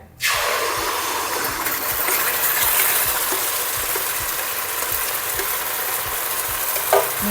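Halwa batter poured into hot ghee in a pan sizzles and fries loudly and steadily, with a spoon or spatula scraping and stirring through it in a regular rhythm from start to finish.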